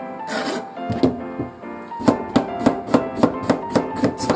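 A kitchen knife slices a cucumber thinly for potato salad, a quick run of sharp, evenly spaced taps on the cutting board after a few slower cuts.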